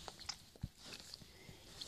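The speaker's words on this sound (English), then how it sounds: "That's why you're chewing on it." A dog gnaws and bites at its injured, twisted foot: soft irregular chewing and licking noises close by, fairly quiet, with occasional louder snaps.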